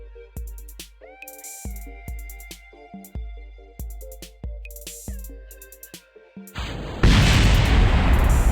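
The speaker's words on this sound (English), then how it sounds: "This is probably going to cause some more explosions." A rapid series of booming explosions in the video game Kerbal Space Program, each with a ringing tail, ending in a sustained roar of harsh noise.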